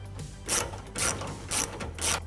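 A ratchet tightens the factory hanger hardware on an MBRP 3-inch dual rear exit exhaust tip fitted to a 2017-2018 Ford F-150 Raptor, giving four evenly spaced bursts of close, crisp clicking with no talk.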